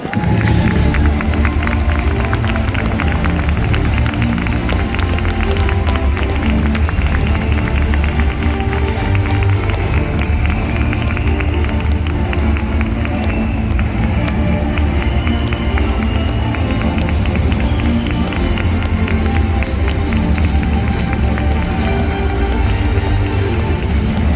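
A seminar audience gives a long, loud round of applause mixed with cheering, a dense, unbroken roar of clapping that fills the hall for the whole stretch.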